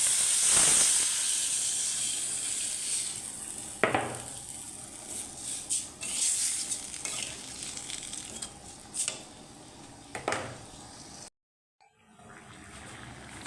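Okra sautéing with shrimp in a pan gives a steady close sizzle and hiss, broken by a few sharper bursts of spatter, before dropping out briefly near the end and then resuming more quietly.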